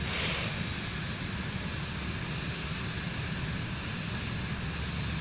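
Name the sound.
airplane engine during takeoff roll in Microsoft Flight Simulator video game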